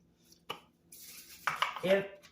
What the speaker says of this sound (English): I'm going to take my little cast iron skillet.